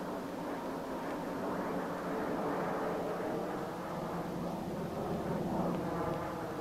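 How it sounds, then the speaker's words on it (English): An aircraft on landing approach drones steadily, a constant engine roar that holds at an even level throughout. "the pilot changes over from instrument to visual flying by using the approach lights to line up his"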